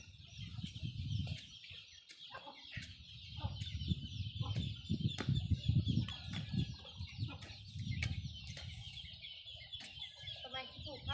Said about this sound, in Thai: ไก่มาสะเลยนะยังบ่ได้